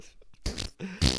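A person imitating a fart noise with their mouth, a short sputtering burst of about a second with a louder blurt at the end, close to the microphone.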